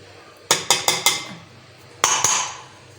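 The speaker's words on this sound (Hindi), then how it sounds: "ये मैं रखती हूँ अपनी कढ़ाई, इसमें डालेंगे हम बेसन।" A metal kadai (wok) set down on a stove for besan halwa, giving four quick sharp metallic clanks followed by two louder ringing knocks, close and clear with no talking, as gram flour is about to be added.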